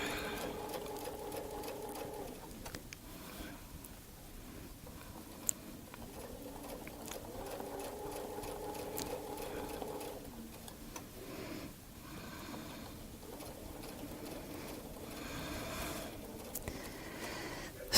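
A sewing machine hums in short steady runs while quilting along a Westalee ruler template, stopping and restarting every few seconds at moderate, close level.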